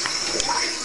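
Water pours steadily from a shower head, a continuous close, even hiss with no pauses.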